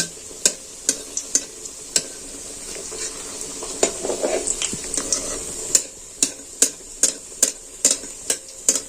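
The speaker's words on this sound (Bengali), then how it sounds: "এবার তেলটা গরম হয়ে গেছে এবার আমি এটা দিয়ে দিচ্ছি এবার আমি এই রকম করে তেল ছিটে ছিটে এটা ভেজে নেব" Fuljhuri pitha batter frying in hot oil, a continuous crackling sizzle broken by sharp regular clinks of a utensil against the pan, close up with no voices.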